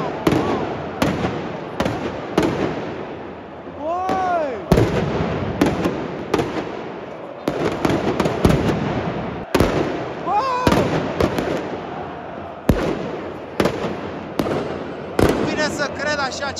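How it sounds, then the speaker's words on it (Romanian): Fireworks burst inside a football stadium during the FCSB vs Rapid Bucharest derby, sharp loud bangs popping repeatedly at an irregular pace with whistling rockets, some crackle and crowd noise underneath, while someone talks excitedly over it. "Bă, artificii, prima dată când văd."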